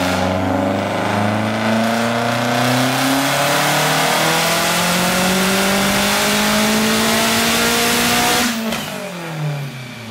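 A Subaru Legacy GT wagon engine revs hard on a dyno, a loud sustained pull with pitch climbing steadily for about eight seconds before the throttle snaps shut and the note drops away.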